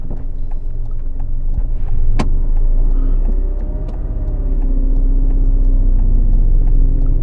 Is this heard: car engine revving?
yes